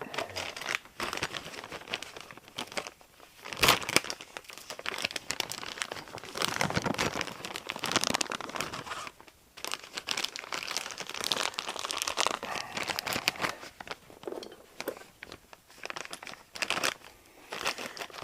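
Crinkly plastic packaging is torn and crumpled as new front brake pads for a 2017 Chevy Silverado 1500 are unwrapped, a close, busy rustle with sharp crackles and short pauses.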